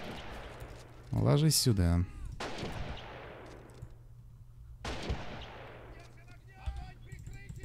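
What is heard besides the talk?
recoilless guns and artillery firing in video game Men of War: Assault Squad 2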